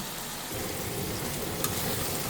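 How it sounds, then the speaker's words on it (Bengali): Dried fish and spices are sautéed in a pan for an eggplant curry. A close, even crackle and sizzle fills the clip, grows slightly fuller after the first half-second, and is topped by one brief spoon tap. "দেখেন আমার শুটকি দিয়ে মশলা কষানো হয়ে গেছে।"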